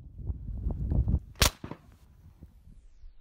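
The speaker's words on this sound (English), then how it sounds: "there is no distinct difference between the bullet hitting the steel and hearing the crack of the gunshot" One sharp crack from an AR-15 rifle fired at a steel target about 125 yards away, the bullet's hit on the steel merging with the shot, after low rumbling handling noise and followed by a few faint clicks.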